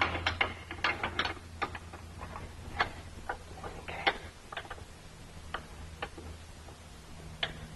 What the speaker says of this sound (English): I'm going to just hit it with this open end of the wrench again.